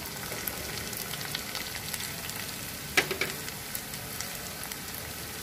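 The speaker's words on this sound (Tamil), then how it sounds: "இப்போ நம்ம தேங்காய் திருவல் ஆட் பண்ணிக்கலாம்." Grated coconut sizzles steadily in a hot pan for a savory rice-flour dumpling dish, a soft continuous frying hiss with a brief louder crackle midway as it is stirred.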